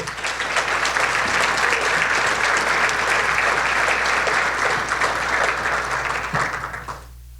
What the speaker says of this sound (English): Please join me in another round of applause for these extraordinary